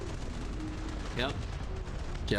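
Artillery pounds the ground in the RTS game Dust Front: dull, repeated booms and gunfire rumble steadily at moderate volume, with brief bursts of talking between the blasts.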